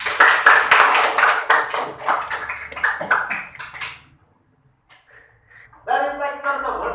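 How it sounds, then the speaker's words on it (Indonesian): A school class claps its hands together in a rapid burst of loud, close applause lasting several seconds that stops abruptly, followed by a pause and then a voice speaking. "Tepuk tangan buat aja dulu."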